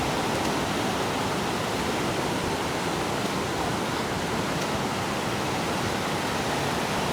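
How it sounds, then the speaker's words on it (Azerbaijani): A small waterfall on the road to the Ilisu baths in Qax, Azerbaijan, gives a steady, even rush of falling water that fills the whole stretch without pause. "İlisu hamamlarına gedən yolda daha bir kiçik şəlalənin yanından keçirik."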